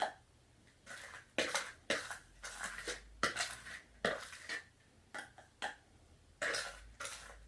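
A measuring spoon scoops brown sugar scrub into a jar, giving a series of soft scraping, clinking and gritty scooping strokes at an irregular rhythm, close and quiet with no talk.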